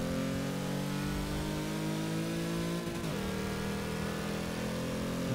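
An Auto Union Type D race car's engine in a racing video game drones steadily at high revs, with a brief pitch shift midway as if changing gear, loud and continuous.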